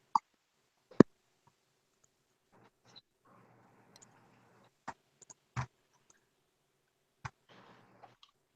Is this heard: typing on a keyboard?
yes